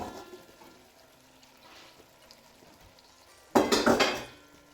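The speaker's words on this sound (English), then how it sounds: "And we give it a stir." A spoon stirring chili with rinsed kidney beans in a pot, a loud burst of scraping and clinking near the end after a quieter stretch of soft kitchen noise.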